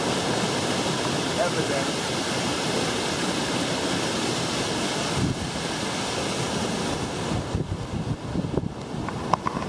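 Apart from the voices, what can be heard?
Pongour Falls waterfall in Central Vietnam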